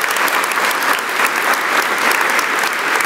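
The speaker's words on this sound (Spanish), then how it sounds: "Dele un aplauso a Dios con todo su corazón." Sustained applause from a large church congregation during a worship service, dense and steady throughout, with no voices breaking through.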